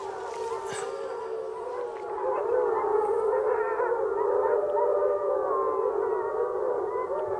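Several wolves from different packs howl back and forth in long, overlapping wavering cries, rising and falling in pitch, fairly loud and continuous over a steady background hiss.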